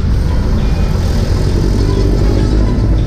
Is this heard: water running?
no